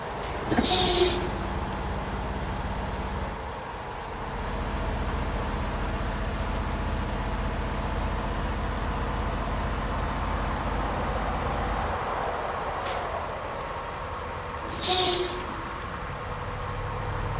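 Continuous patter of rain in Euro Truck Simulator 2 with a low rumbling bed, broken by a couple of sharp brief knocks near the start and end.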